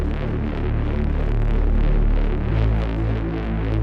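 A heavy synth bass built from a sawtooth wavetable with lots of drive throbs thick and loud, a dense buzzing low drone that shifts pitch partway through, with no talk.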